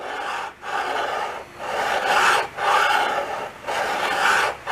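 A metal file rasps across a flat metal surface in four or five long back-and-forth strokes with short pauses between them, fairly close and moderately quiet, with no voices.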